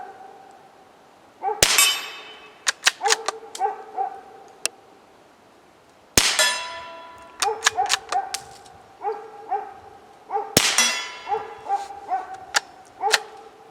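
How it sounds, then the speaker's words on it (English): CCI Quiet .22 rounds from a Ruger American rifle strike a steel target: three loud, sharp metallic clangs that ring out, each followed by scattered lighter pings and a softer, muffled shot. "Pretty sure it's louder hitting the steel than the actual gunshot."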